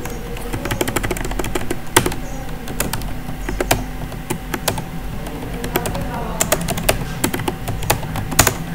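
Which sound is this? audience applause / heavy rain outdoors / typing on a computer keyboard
typing on a computer keyboard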